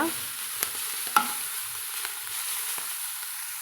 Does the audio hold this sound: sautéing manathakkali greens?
yes